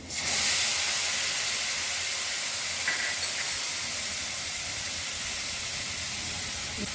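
Cumin, chilli powder and coriander powder sizzle in hot oil in a pan for a rohu fish curry. A loud, bright hiss bursts up and then holds steady, easing slightly as it goes on, with no one talking.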